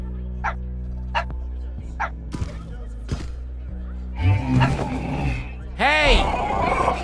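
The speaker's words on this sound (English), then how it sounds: "Shh, bad dog, bad dog." In Minecraft Story Mode, a game dog gives several sharp barks and a growling roar over a steady music bed, with character voices talking over the sounds.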